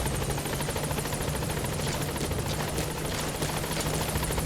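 A helicopter in the video game Metal Gear Solid V arrives at a landing zone, its steady rotor chop and engine roar loud and continuous throughout, with a faint low hum beneath.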